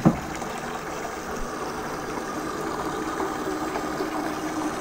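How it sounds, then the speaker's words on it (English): Water runs from a hose into a horse bucket through a homemade automatic shut-off valve, a steady close splashing and rushing fill that starts with a brief knock and continues evenly throughout. "You can see the water is flowing there."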